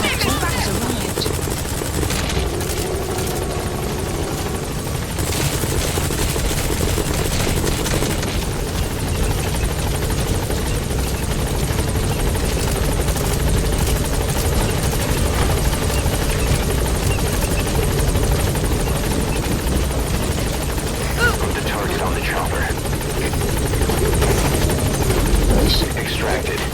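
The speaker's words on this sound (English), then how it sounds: "Support helicopter has arrived." A support helicopter in Metal Gear Solid V: The Phantom Pain thumps its rotor steadily and loudly throughout, with a constant mechanical drone and occasional sharp bursts layered on top.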